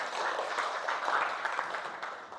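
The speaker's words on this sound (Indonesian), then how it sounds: "Beri tepuk tangan dulu untuk Dwi" A class of students claps for a classmate, a steady, moderately faint patter of many hands in a classroom, continuous for a couple of seconds and fading slightly at the close.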